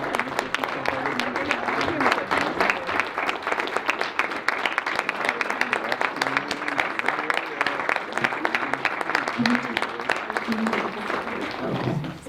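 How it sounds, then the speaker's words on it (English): A crowd at an award ceremony applauds steadily and loudly throughout, dense clapping filling the room with a bit of murmuring voices mixed in. "Let's give him a round of applause."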